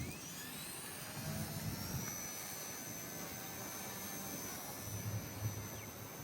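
A small K110S RC helicopter flies outdoors, its rotor and motor giving a steady high whine with faint shifting tones, holding at a constant moderate level for several seconds with no talking.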